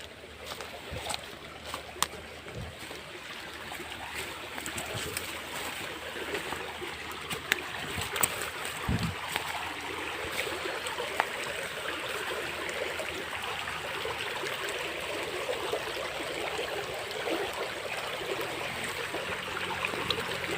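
A small stream flows with a continuous soft rushing trickle, steady and moderately near, with a few faint knocks over the water.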